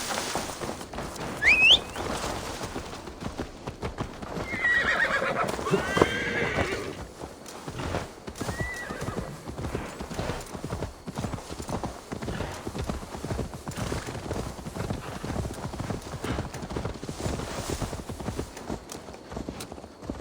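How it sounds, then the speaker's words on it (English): Steady clip-clop of horse hooves trotting throughout in Assassin's Creed Valhalla, with a horse neighing early on, a bird chirping briefly, and a faint ambient background. "Now to deliver Magni his horse."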